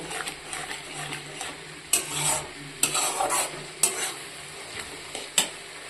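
A spoon stirs paneer through chili sauce in a frying pan, with gentle sizzling beneath several sharp scraping strokes spaced a second or so apart.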